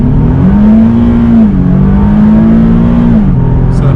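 Nissan 370Z engine pulling hard from a dead stop, a loud, steady droning roar that rises in pitch, dips briefly at a gear shift around the midpoint and again near the end, with no talk.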